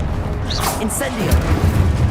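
A brief whooshing burst of the Incendio fire spell from Hogwarts Legacy flares up early, then gives way to a low rumbling background.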